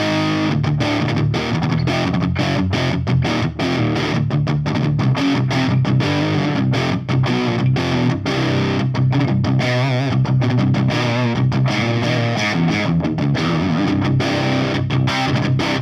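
Heavily distorted electric guitar through a British Plexi amp model on a Quad Cortex, no speaker emulation, plays a riffing, chord-driven line with choppy rests, a dry, fizzy tone, loud and up front.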